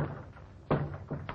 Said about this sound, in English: Close the door, Butch.